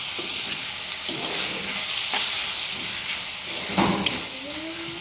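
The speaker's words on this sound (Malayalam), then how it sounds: "നന്നായിട്ട് മുളക്കി കൊടുക്കാം." A spoon stirs lentils into turkey berry thoran frying in a pan, with a continuous sizzle and hiss broken by several scraping strokes against the pan.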